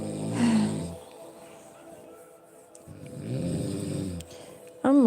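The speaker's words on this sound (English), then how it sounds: "my husband is snoring quite loud" A husband snores loudly, with two long, rumbling, throaty snores separated by a quiet breath, and a brief snort or voice cutting in at the very end.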